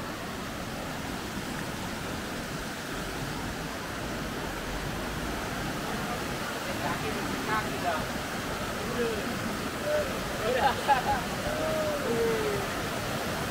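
Steady rushing water from a river at Ciherang, reached during an off-road outing, pours on continuously with an even broadband wash and faint sounds rising near the end.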